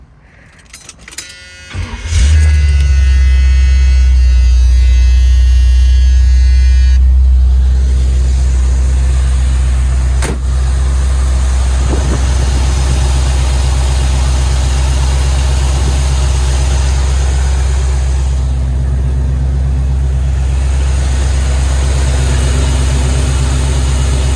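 A 1975 Chevrolet Corvette engine cranks and fires, then settles into a loud, steady, deep rumbling idle that runs close and unbroken, with a brief higher whine as it catches.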